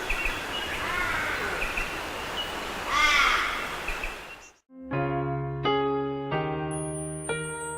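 Harsh crow caws over a noisy outdoor background, followed by a sudden switch to a plain stepped musical tone sequence.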